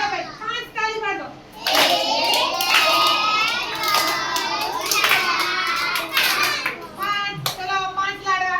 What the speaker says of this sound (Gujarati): 1 ચલો ભાઈ 5 તાળી પાડો